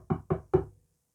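Three firm knocks on a door, evenly spaced and close, with no talk, ending in silence.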